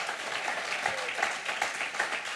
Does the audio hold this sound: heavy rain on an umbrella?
no